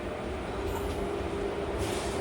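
A Mumbai CSMT–Mangaluru Junction superfast express on the Kerala–Goa route makes a steady, low rumble of running rolling stock, heard from on board as a continuous, even drone.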